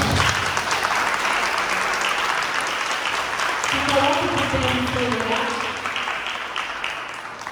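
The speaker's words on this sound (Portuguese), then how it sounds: "Vamos aplaudir o Senhor." A church congregation claps in a loud, dense wave that fades gradually, while someone speaks over the applause partway through.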